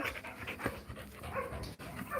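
Steady, breathy shepherd dog panting, close and fairly quiet, continuing without pause for a couple of seconds.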